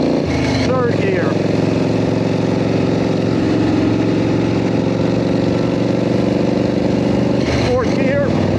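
Motorcycle with a jockey shift and foot clutch, engine droning steadily and loudly up close, with brief revving swells near the start and end; a voice talks over it.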